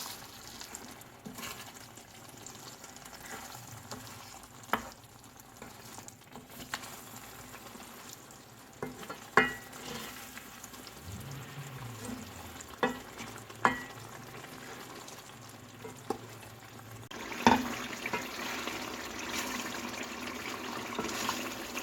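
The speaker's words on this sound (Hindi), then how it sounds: "ये सब डालने के बाद हम इसे तकरीबन 10 मिनट और भून लेंगे।" Chicken stew with yogurt and green chilies frying in a pan, a soft steady sizzle with occasional stirring scrapes and clinks of a spoon, growing a bit louder near the end.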